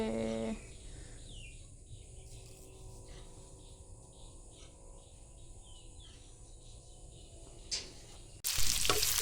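Aromatics being sautéed in a pan for fish escabeche in an outdoor kitchen: a steady sizzle with occasional stirring, a faint bird call in the background, and a loud burst of hissing at the end.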